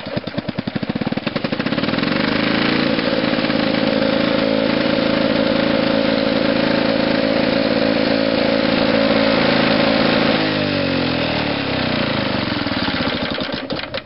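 Lawn-Boy lawn mower with an old-style exhaust, just after a cold start: the engine catches with sputtering pops, then runs loud and steady at close range, its pitch dropping slightly near the end.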